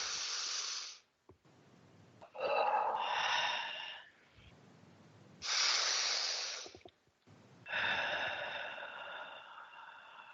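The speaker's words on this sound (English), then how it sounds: "So if you could just do some nice deep breaths with me." Slow, deep breaths during a tapping session, four long airy inhales and exhales separated by short pauses, close and quiet with a soft hissing, sighing quality.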